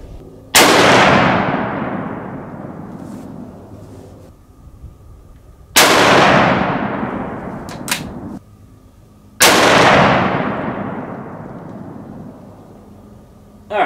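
.308 Winchester rifle firing 125-grain Speer TNT loads outdoors: three loud, close shots spaced a few seconds apart, each with a sharp crack and a long rolling echo that fades away.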